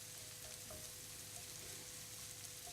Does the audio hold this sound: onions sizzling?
yes